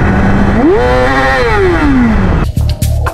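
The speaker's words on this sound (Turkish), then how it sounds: "Bakın stok egzozumuzla ses nasıl?" A Yamaha R6 motorcycle engine with stock exhaust idles loudly, then revs up smoothly and winds back down, followed by a few rough sputtering bursts.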